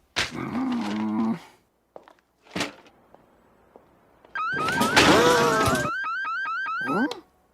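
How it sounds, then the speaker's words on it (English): An electronic alarm blares with rising, repeating warble tones, loud and close, after a few scattered bumps and brief noises. "Oh dear, the alarm must be broken."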